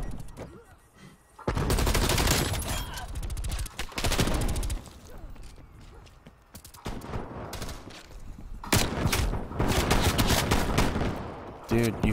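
Automatic gunfire in Black Ops Cold War during a Team Deathmatch on Nuketown 84, in loud sustained bursts with short pauses, the last few seconds filled with heavy continuous shooting.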